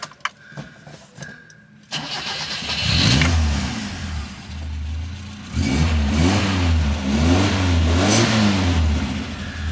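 An FSO 125P 1.5C (Fiat 125p), freshly brought out of the garage, cranks and fires up on choke. A few revs follow before it settles into an uneven idle with repeated blips of the throttle.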